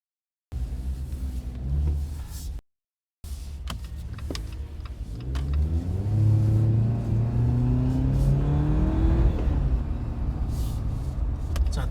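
A Jeep Wrangler Rubicon engine accelerates on the road, a deep rumbling drone rising in pitch through the gears after a brief cut, loud and close from inside the cabin.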